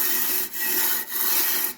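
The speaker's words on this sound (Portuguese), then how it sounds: "a coisa mais fácil de lixar é o próprio tijolo" Hand sanding fireplace brick with steady back-and-forth rubbing strokes, a continuous broadband rasp broken by two brief pauses as the stroke changes direction, close and fairly loud with no talking.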